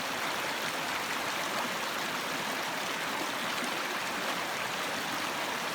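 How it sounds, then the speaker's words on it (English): A small creek flows steadily in Historic Hawkins County, Tennessee, a continuous soft rushing and trickling of water that holds at an even level throughout with no voices. "Isn't that pretty little creek there?"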